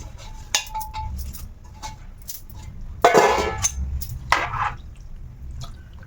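Rice poured into a pot of paneer pulao and stirred by hand in a home kitchen makes soft clinks of a spoon on metal, wet squishy scraping and small splashes, close up against a low kitchen hum.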